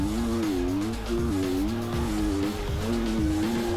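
A dirt bike engine races around a track, held at a steady high-revving drone that wavers slightly as the rider works the throttle, loud and continuous with no talking.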